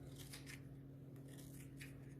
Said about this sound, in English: just taking a pair of scissors, let's go ahead and cut about halfway up or so